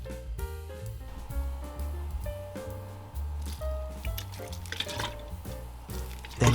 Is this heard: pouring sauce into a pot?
yes